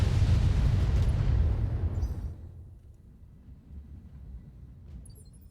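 A volley of missile explosions in BattleTech, a loud rumbling roar of overlapping blasts that fades over a couple of seconds into a low, quieter rumble.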